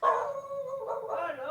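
A dog howls and yips in a drawn-out, wavering cry, moderately loud and close, in one continuous burst lasting under two seconds.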